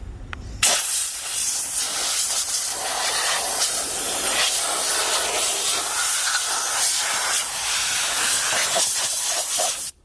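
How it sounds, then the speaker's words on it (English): Compressed air blasts onto a Kawasaki Z900 motorcycle chain to dry it after cleaning, a loud continuous hiss that starts sharply and runs unbroken for about nine seconds before cutting off. "I have compressed air, so that's what I'm going to use"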